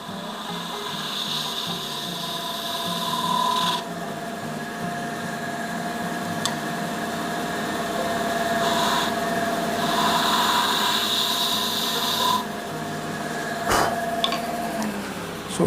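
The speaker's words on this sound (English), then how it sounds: "And then we'll just give it a nice sand up to finish." A tinted, fabricated resin shaving brush handle is sanded while it spins on a wood lathe. The motor hums steadily the whole time, and a soft abrasive hiss rises and falls as the paper is pressed on and lifted off.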